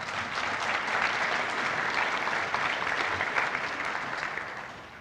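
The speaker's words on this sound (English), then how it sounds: "If we can give them all a round of applause" An audience at a tech conference applauds, a dense sustained clapping that swells, holds steady for several seconds and then gradually tapers.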